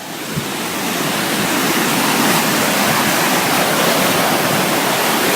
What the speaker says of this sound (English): Look at those waves. There's a big one over there. They're getting worse. They're getting more violent.